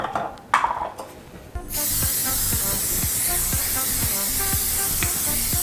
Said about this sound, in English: But first I'm going to spray this pan.